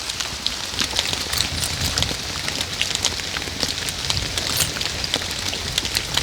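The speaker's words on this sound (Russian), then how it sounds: "Как раз идет дождь." Steady rain patters on a house roof near the chimney, a dense, even hiss of countless drops with scattered sharper taps, continuous and fairly loud throughout.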